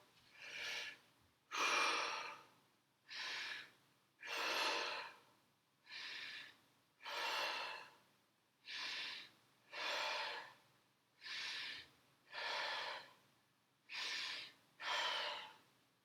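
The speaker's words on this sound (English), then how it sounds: "we take like 4 or 5 deep breaths" Deep, slow breaths during a home workout, about a dozen long inhales and exhales in an even rhythm, close and fairly quiet with short pauses between, no talk.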